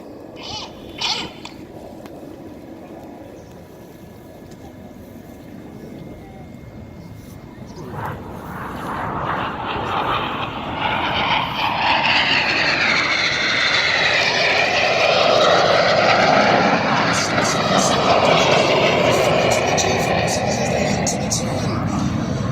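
Display aircraft fly a synchro crossing manoeuvre at the Duxford air show. The distant engine roar swells steadily into a loud, sustained rush under ongoing commentary.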